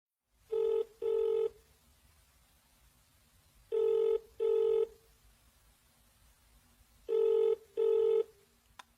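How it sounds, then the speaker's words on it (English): Telephone ringing heard through the earpiece, three double rings with a steady pause between pairs, loud and clear against a quiet line; no one speaks. "He is phoning her for directions."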